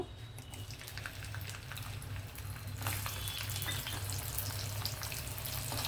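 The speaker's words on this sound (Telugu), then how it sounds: "ఆయిల్ హీట్ అయిన తర్వాత మనం ఎండు మెత్తళ్ళు వేపేసి తీసేసుకోవాలండి" Dried fish frying in heated oil gives a faint, steady crackling sizzle that swells noticeably louder partway through and stays even to the end.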